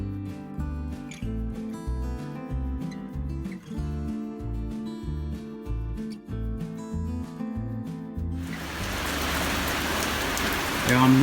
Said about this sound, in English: I'm rained off at the minute,